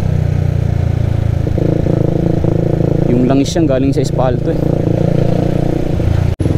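A motorcycle engine drones steadily at close range while riding through traffic, with someone talking over it partway through.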